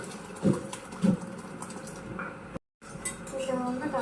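A spoon scrapes and clinks against a cooking pot while dal with ridge gourd is stirred, a few sharp metallic knocks followed by softer stirring, close by, with someone speaking over it.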